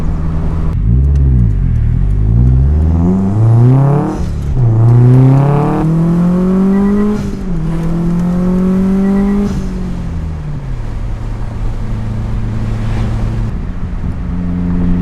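Car engine revving during heel-toe driving, heard from inside: loud, close rising and falling engine notes with quick blips as the gears change, then settling into a steady drone.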